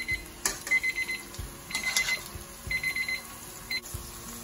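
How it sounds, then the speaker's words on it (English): Kitchen timer beeping in a home kitchen while chilli prawn spaghetti cooks, with several short bursts of repeated high electronic beeps at moderate volume over low kitchen background noise. "as you can hear the beep, the pasta is ready."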